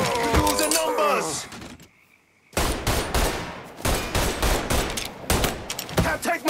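Rapid bursts of gunfire from the Mafia 3 video game, loud and dense, with volleys of shots broken by a short quiet gap and shouted voices overlapping the firing.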